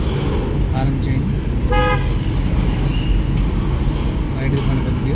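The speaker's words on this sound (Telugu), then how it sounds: "హారన్ చేయండి." A short, clear car horn toot sounds from inside a car during a driving lesson, heard over steady engine and road rumble, with talking nearby.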